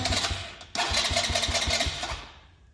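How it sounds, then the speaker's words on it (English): A Polaris Phoenix 200 ATV engine, 2024 model with rough-running issues, cranks and catches on full choke, settling into a steady, close, loud putter with regular pulsing beats before fading slightly. "I obviously start from full choke"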